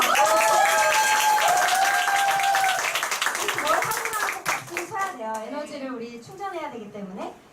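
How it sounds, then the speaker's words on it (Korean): Audience clapping hands at a group seminar, dense steady applause for about four seconds before it thins out as voices take over. "박수 한번 치고 갈게요"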